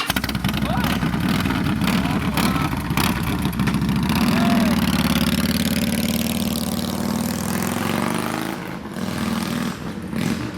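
A 2015 Harley-Davidson Fat Boy motorcycle engine runs loud and close, a deep steady idle that swells with throttle blips before settling, with voices talking over it.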